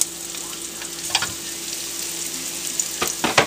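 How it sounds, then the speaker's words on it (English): Onions and peppers sauté in hot oil with a steady broadband sizzle, with a few sharper crackles and pops toward the end and no talking. "get these sauteing, get some infusion in the oil here of the peppers and stuff"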